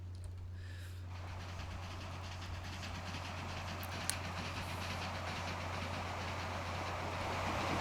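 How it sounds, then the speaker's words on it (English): A train rolls past in the railway strategy game Transport Fever, a steady broad rumble that swells slightly toward the end, with no talk. "Get that train out of our way."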